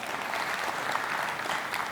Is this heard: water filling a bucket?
no